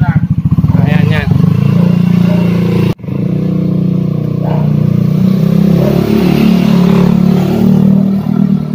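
A Yamaha NMAX scooter with an RCB setup, its engine revving hard and close in short bursts, then holding a steady buzzing idle, with people chatting over it.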